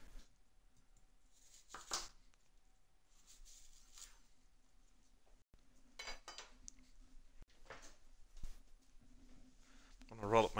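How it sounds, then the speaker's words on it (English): A knife cuts an onion on a board in a home kitchen while stir-fried vegetables are being prepared, giving a few sparse, sharp clinks and taps separated by quiet gaps. "So let me cut that onion."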